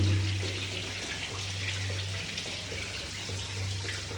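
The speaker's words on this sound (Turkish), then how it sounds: "Şimdi suyunu boşaltıyoruz. Hidrofor basınç takımın suyunu." Water draining out of a hydrophore pressure tank in a domestic pump system, a steady broadband rush of flowing water with a low hum underneath, continuous and fairly loud throughout, no talking.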